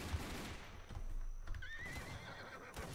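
A horse neighs inside a Roblox game, a rising whinny standing out over steady background game noise with hoof clip-clop, close and fairly loud.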